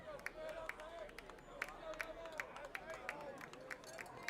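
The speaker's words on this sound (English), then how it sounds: "Rhythmic applause from that Mooreville dugout off to our left." Rhythmic clapping from the Mooreville dugout during a high school baseball playoff game against Kosciusko, steady evenly spaced claps off to one side over a murmuring crowd and faint background chatter.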